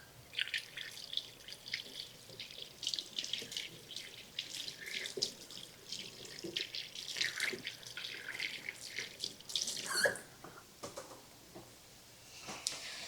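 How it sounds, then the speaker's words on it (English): Hands being washed under a running kitchen tap while cooking country fried steak, a steady stream of water with soft splashing and patter, fairly faint and continuous, with no talking. "Let me wash my hands."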